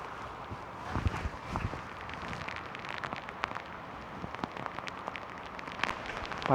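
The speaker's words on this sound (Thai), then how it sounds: "โอ้ตอนนี้ฝนมันลงเบาๆนะครับฝนไม่ได้ลงหนัก" Light rain patters steadily at a foggy hillside campsite, with scattered soft drops and taps over a constant faint wash, fairly close and alone without talk.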